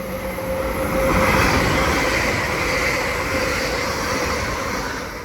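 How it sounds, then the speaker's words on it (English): An LNER passenger train from London King's Cross to Edinburgh passes through Doncaster station on the East Coast Main Line, a loud, steady rumbling roar that swells and then slowly eases, with no voices over it. "As passing through now is a LNER service from London King's Cross to"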